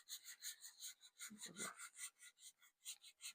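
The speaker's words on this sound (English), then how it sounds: "Grab my emery board. I need to sand this because it's glossy." Rapid rhythmic rasping of an emery board sanding a small glossy craft surface, close and quiet, with about a dozen and a half quick back-and-forth strokes and a brief low bump midway.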